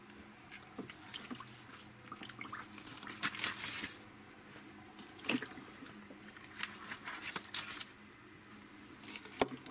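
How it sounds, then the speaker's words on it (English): Fish being placed into a brine, with wet splashes, drips and squishy handling in a container, several louder splashy moments over a steady faint background, no talking. "Put the fish in the brine."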